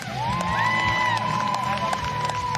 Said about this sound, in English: Big round of applause for Stephanie Naud.